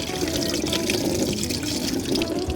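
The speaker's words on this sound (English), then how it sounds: "at the moment too much water's getting out of the bucket" Water pours steadily out of a pond pump's filter bucket, with a continuous close splash and trickle and no voices.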